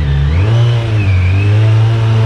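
A Kawasaki Z900 superbike engine revs hard and accelerates, a loud, close, sustained roar that climbs in pitch over about two seconds with no talking.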